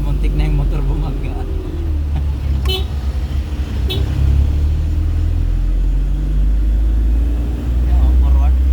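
A car engine labors uphill on Kennon Road toward Baguio, a steady, close, low rumble throughout, with a couple of brief horn toots and voices talking over it.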